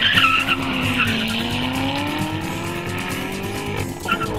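A Chevrolet Corvette ZR1 holds a sustained high-speed run past 130 mph, its engine note a steady, rising drone with sharp upper harmonics and a loud, continuous roar and no talk over it.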